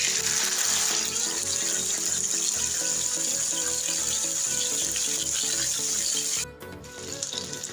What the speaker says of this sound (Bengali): অল্প আছে আমি তান্দুরিটা ভেজে নিচ্ছি